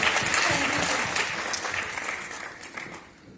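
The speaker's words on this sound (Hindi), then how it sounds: "इस बच्चे के लिए जोरदार तालियां हो जाए" An audience applauds a student at an education Q&A session in New Delhi, a dense, steady wash of clapping that slowly fades over a few seconds, with faint voices mixed underneath.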